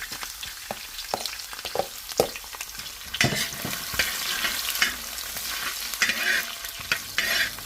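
Ginger, green chilies and garlic hit hot oil for a chicken stew, with a steady sizzle under repeated scraping and stirring of a spoon in the pan.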